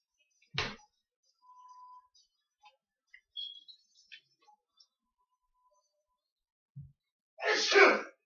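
A sharp sneeze near the start, then faint small noises, and a louder breathy burst near the end.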